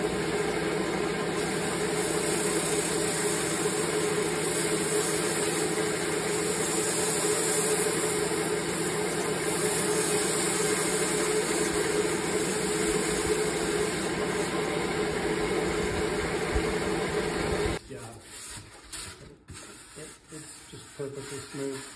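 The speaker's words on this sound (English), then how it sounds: "So I brought my belt sander outside because this stuff's so messy." A belt sander grinds the edge of a backseat from a 1990 MasterCraft Prostar 190 boat outdoors, a steady loud, rough whir running about eighteen seconds before cutting off, leaving quieter scattered handling noises.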